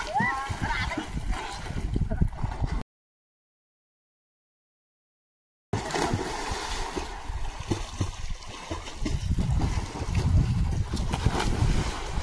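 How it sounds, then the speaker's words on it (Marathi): Swimmers leap into a village pond and splash about, with bursts of churning water and splatter under excited voices nearby, broken by a stretch of dead silence in the middle. "अरे उडी टाकले पाण्यातून गेला तो बघा."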